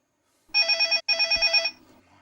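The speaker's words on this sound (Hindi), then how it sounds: "अक्षय, कविता, फोन बज रहा है।" A telephone rings twice in quick succession, a loud trilling electronic bell burst heard close and alone, then fading into quiet.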